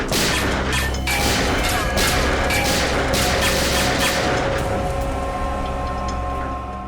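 Gunfire erupts during a crime-drama shootout, a sustained barrage of sharp cracks and heavy crashing bursts that overlap densely and stay loud for several seconds before easing slightly at the end.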